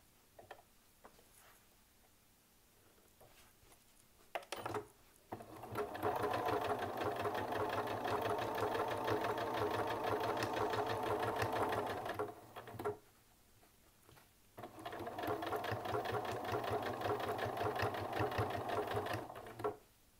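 A sewing machine stitches quilting lines across a bag panel in two long, steady bursts of rapid mechanical clatter, with quiet pauses and small handling clicks between them.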